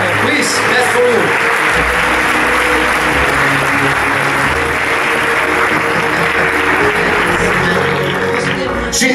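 Sustained audience applause fills the hall at a film festival event in Monaco, a loud, continuous crowd clapping with voices murmuring underneath.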